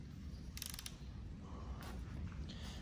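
A wrench turning rod bearing bolts to torque-to-yield on a 2003 Mercedes-Benz S55 AMG M113K engine, two or three short ratcheting clicks over a low workshop hum, close and fairly quiet.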